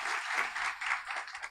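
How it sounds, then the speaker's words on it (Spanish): Applause from a church congregation during a Sunday service, a dense, even patter of many hands clapping at moderate volume, heard on its own with no speech. "dele un aplauso"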